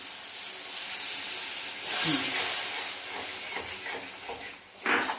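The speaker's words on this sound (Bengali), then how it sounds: "সামান্য একটু জল দিয়ে আমি মশলাটা কষবো" Water splashes into spice masala frying in oil for a pomfret kalia, letting out a steady close hiss and sizzle with a louder steamy burst near the end.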